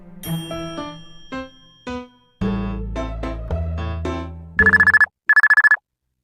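A phone ringtone plays a bright melodic tune, then two loud bursts of rapid electronic ringing follow before it stops.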